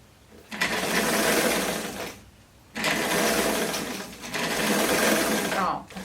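A sewing machine stitches a blouse, including a backstitch, in three loud, steady runs of rapid needle chatter separated by brief pauses.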